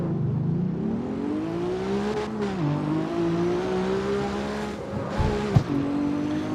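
A Porsche in the racing video game CarX Street drones with a steady engine note that rises and dips as it drives, with a brief thump near the end, loud and continuous with no talking.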